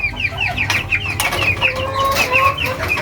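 Cornish chickens on a farm cluck steadily and close by, many overlapping calls in a busy rhythmic chorus that fills the whole stretch, with no one talking.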